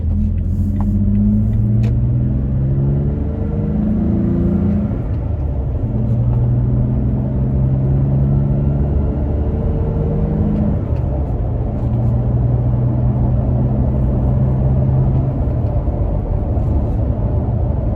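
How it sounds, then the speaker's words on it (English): Toyota Tacoma with a chopped TRD exhaust accelerating through the gears, a loud steady engine drone from inside the cab that climbs in pitch, drops at each shift and repeats several times. "here we're gonna just turn and run through the gears again to get up to speed, and then we'll cruise at 55"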